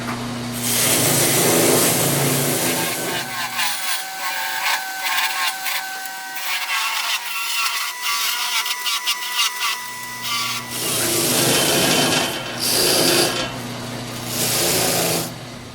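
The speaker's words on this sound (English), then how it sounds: "I got the sander all fired up here" A mop sander works the edges of a wooden scroll saw cross puzzle. It gives a steady, close motor whine with a coarse rasp that eases off in the middle and then swells again as the wood is pressed back in.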